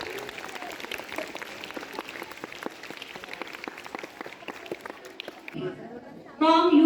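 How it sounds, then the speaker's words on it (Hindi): Applause for a young student at a school function fills the room with steady clapping from an indoor audience, then a voice on a microphone starts speaking near the end. "तो एक बार फिर से जोरदार तालियां इसके लिए।"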